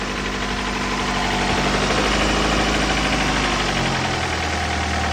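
A Honda Prelude engine idles steadily up close, a loud, continuous low rumble with a faint knocking texture that drops slightly in pitch near the end as the idle settles lower.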